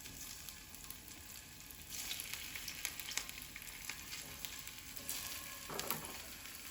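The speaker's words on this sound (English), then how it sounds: "You're gonna hear it sizzle." Potatoes sizzling cut side down in a frying pan, a continuous crackling hiss of hot oil with occasional louder spits, close and steady without talk.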